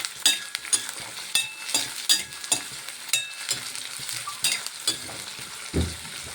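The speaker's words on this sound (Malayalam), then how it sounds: "അപ്പോൾ നമ്മുടെ ഇഞ്ചി, വെളുത്തുള്ളി, സബോളയൊക്കെ വഴന്ന് വന്നിട്ടുണ്ട്." Onion, ginger and garlic sautéing in a pan for beef liver dry fry, a steady soft sizzle broken by repeated scraping stirs of a spoon, close and without talk.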